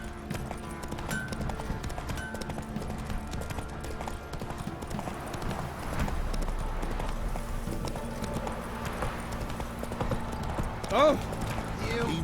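In The Witcher 3, the horse Roach gallops in a steady, rhythmic clip-clop of hooves close by, with a brief whinny near the end and voices talking over the hoofbeats.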